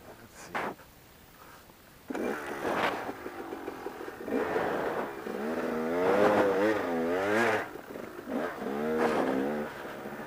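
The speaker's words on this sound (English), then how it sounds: "apparently my bike doesn't want to start here for some reason" A reluctant enduro motorcycle coughs to life after a couple of short tries, then revs in rising and falling bursts, close and loud, with no voices.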